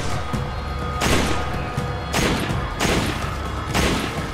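Gunfire rings out in the Resident Evil 5 video game: loud, dense bursts of shots strike about once a second, four in a row, over constant game noise.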